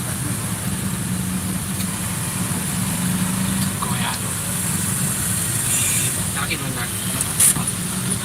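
Cars and motorcycles idling in a total traffic jam on the road to Sekumpul, Martapura, a steady low engine rumble with occasional revs and a brief horn-like burst near the end, voices faintly in the background.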